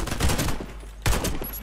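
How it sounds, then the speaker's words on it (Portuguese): Gunfire in the video game Warface, two loud clusters of rapid shots about a second apart, each with a deep thump and a fading rattle. "Já há ali tiros."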